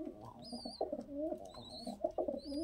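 Chandni pigeons coo in repeated soft, low throaty phrases close by, with faint high chirps from other birds above.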